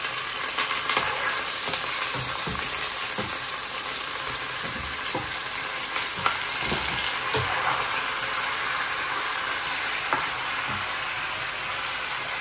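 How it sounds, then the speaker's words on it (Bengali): Chicken pieces sizzle and crackle in a pan of fried onions, a steady hiss of hot oil broken by scraping stirs and occasional louder pops, close and with no voices. "পেঁয়াজটা ভাজা হয়েছে, এখন মাংসটা দিয়ে দিই।"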